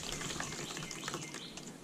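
Wet clay slip is poured through plain screen wire, giving a faint, continuous liquid trickle and splatter close by with no talking.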